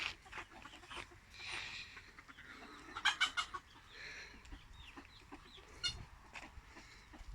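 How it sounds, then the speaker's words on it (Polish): Domestic poultry in a backyard flock during hot weather, with scattered clucks and a short burst of bird calls midway, moderately distant and fairly quiet against outdoor background noise. "Ptaki."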